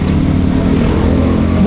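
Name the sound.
motorcycle engine being started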